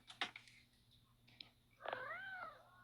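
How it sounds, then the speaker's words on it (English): A cat meows in a drawn-out, rising and falling call near the end, after a few sharp clicks and taps. No one speaks. "So we got the cat meowing over here."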